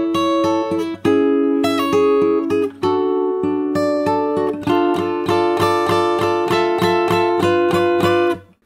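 Fingerstyle acoustic guitar plays the intro, ringing plucked chords and melody notes in a steady rhythm, close and alone, fading out at the end.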